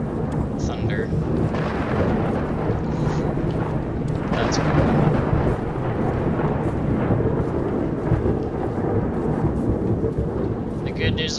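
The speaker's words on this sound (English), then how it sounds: "Thunder. That's cool." Thunder in the video game Cataclysm: Dark Days Ahead rolls as a long, steady rumble with rain-like hiss, loud and continuous throughout.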